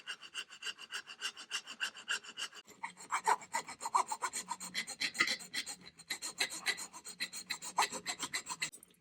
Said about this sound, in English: I used the hand file instead of a Dremel to have more control.